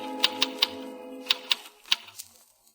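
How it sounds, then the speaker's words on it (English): A manual typewriter in an old-time radio drama taps out several sharp, separate keystrokes in short uneven bursts, close and clear with no voices. "he stares at the wall, then hunches over the typewriter again."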